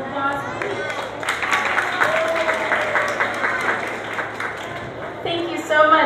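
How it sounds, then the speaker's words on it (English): Audience applause at a children's museum event welcoming a string ensemble, steady clapping filling the room for several seconds with some voices and a few tonal notes mixed in, swelling slightly at the end. "Could you give them a round of applause, please?"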